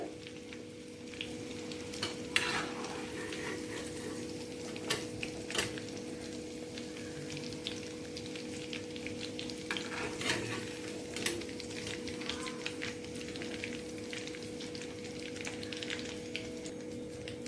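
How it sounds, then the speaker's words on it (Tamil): Marinated fish pieces fry in hot oil for a South Indian fish pickle, giving a steady, soft sizzle with scattered sharp pops and crackles throughout. "இதே மாதிரி இப்போ நம்ம எல்லா மீனையும், நம்ம ஊற வச்ச மீன் எல்லாத்தையுமே வந்து பொரிச்சு எடுக்க போறோம்."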